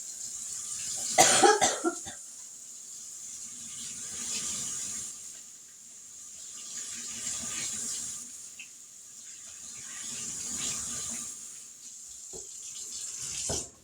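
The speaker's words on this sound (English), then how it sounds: "And wash my hands because they are sticky from the inside of those gloves." A kitchen sink tap runs as sticky hands are washed after taking off gloves, giving a steady soft hiss of water; a single sharp cough sounds near the start.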